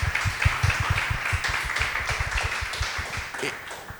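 An audience applauds for comic artist Ariel López B, with close, uneven claps thumping steadily before thinning toward the end.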